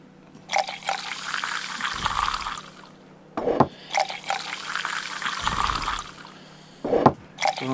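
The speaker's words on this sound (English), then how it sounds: "Pour a mug of ale." A mug of ale is poured twice in Tavern Manager Simulator, each a gurgling liquid fill lasting a few seconds, punctuated by clunks and a brief low thud between pours.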